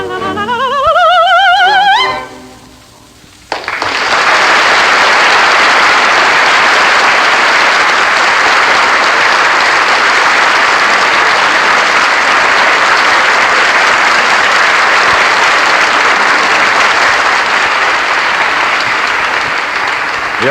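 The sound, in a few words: audience applause for opera singer Risë Stevens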